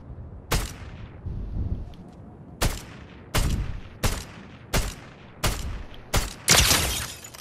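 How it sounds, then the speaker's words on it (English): Heavy gunshots from a gun in Fortnite ring out one at a time at irregular intervals, about eight sharp, loud blasts with decaying tails, the last ones coming closer together. "I think I gotta aim right on them with this gun, eh?"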